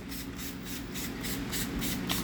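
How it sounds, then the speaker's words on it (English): Spray bottle of aquarium water spritzing air plants, a quick series of soft hissing bursts in a regular rhythm, close and quiet with no talk. "I have aquarium water in a spray bottle"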